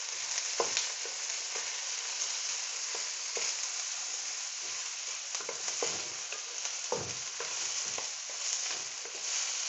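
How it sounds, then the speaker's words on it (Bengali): Chopped onion and chilli fry in a pan with a steady close sizzle, broken by scattered spatula scrapes and stirring clatters and no talking. "মরিচটা ভালো করে কষায় নিচ্ছি।"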